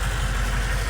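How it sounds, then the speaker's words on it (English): Exhaust of a 1986 AM General HMMWV idling outside, a steady low rumble with even pulsing, close and continuous with no talk. "just so you can hear the exhaust outside."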